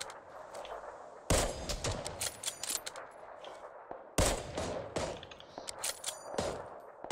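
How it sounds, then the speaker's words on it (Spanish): Gunfire in the battle-royale game PUBG on the Sanhok map, two loud bursts of rapid shots separated by a short pause, each followed by scattered single cracks. "Se están tirando de otro lado."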